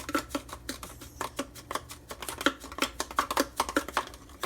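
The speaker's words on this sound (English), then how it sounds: "What you hear is a solid piece of salt in there." Rapid, irregular clicking and rattling of a solid lump of sea salt knocking around inside its container, fairly quiet and close.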